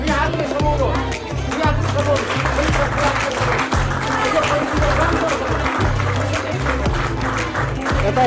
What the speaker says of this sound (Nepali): हजुरहरूले सबै ताली बजाउनु